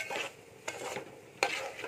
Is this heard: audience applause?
no